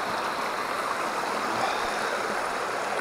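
Waterfall on a snowy creek, a steady, dense rush of falling water that stays close and continuous without any pause or voices.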